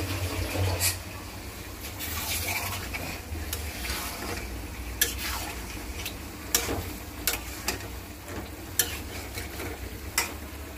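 Food sautés and is stirred in a pan over a gas flame: a continuous low sizzle runs throughout, and a utensil sharply ticks and scrapes against the pan at irregular intervals, close up and with no speech.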